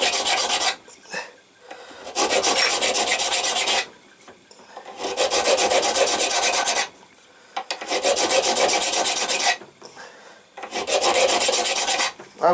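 Steady metal file strokes shaping a friction folder knife, long rasping passes in four loud bursts separated by short pauses, no voices.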